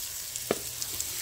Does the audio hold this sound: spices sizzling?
yes